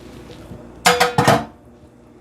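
Dry ingredients being added to wet baked-donut batter in a bowl, giving two close, clattering bursts of bowl and utensil contact against quiet room tone.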